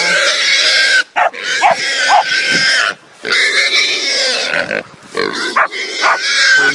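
A pig grunts and squeals loudly and close up in repeated harsh bursts, with brief pauses between the noisy stretches.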